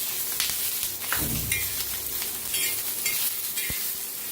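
Green chilies fry in a pan with garlic, ginger and coriander, a continuous close sizzle broken by a few spoon scrapes and sharp clinks against the pan as the mixture is stirred.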